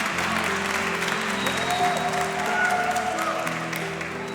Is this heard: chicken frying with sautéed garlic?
no